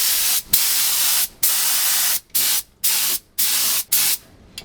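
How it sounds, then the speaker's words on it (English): Repeated bursts of spray hiss from an aerosol adhesive can inside a 1973 Volkswagen Beetle, about seven short blasts in an uneven rhythm with brief silent gaps, close and loud. "So now we're gonna spray the area that's getting the carpet."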